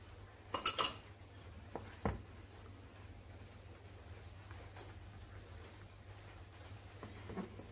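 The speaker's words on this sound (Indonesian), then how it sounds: "kita aduk sampai rata." Cake batter of flour and coconut water being stirred in a bowl, a few clinks of a utensil against the bowl early on, then quiet soft stirring over a low steady hum, close but faint.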